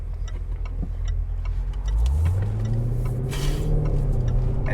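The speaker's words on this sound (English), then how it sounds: "let's let a car get by here before we do anything too crazy" A car passes on the road beside a 2021 Range Rover Velar SVAutobiography. A steady rumble swells, and a rising engine note comes through as it draws near, all at moderate loudness with no talking.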